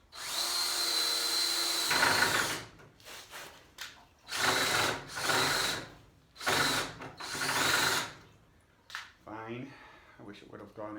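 A power drill driving screws, running in several long whirring bursts separated by short pauses, loud and close, with someone briefly talking near the end.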